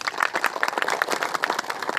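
A crowd at a public gathering breaks into sustained applause, with many hands clapping in a dense, irregular patter that carries on steadily throughout.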